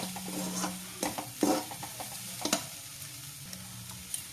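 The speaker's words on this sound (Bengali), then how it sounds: "দিয়ে নুনটা দেওয়ার পর ভালো করে নাড়িয়ে চাড়িয়ে নেব" A cauliflower and onion filling for gobi paratha is stirred and fried in a pan, with scraping strokes and clatters at an irregular pace over a soft, continuous sizzle.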